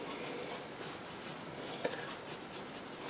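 A Palomino graphite pencil shading dark values on paper, a close, steady scratchy scribbling with rhythmic strokes and one small tap, no voices.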